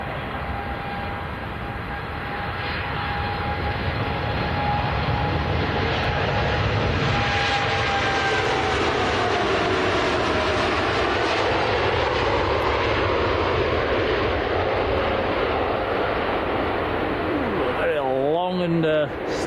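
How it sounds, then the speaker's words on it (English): Saudi Boeing 787-9 Dreamliner taking off from Manchester Airport, a steady broad engine roar holding loud through the whole run with a faint whine, heard from a distance outdoors, ending with a short burst of wind buffeting. "Typical Dreamliner takeoff."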